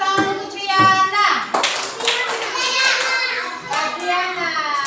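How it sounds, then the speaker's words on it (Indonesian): A classroom of pupils claps for a classmate, with a burst of hand clapping mixed with children's voices and an adult talking over it. "Tepuk tangan untuk Triana."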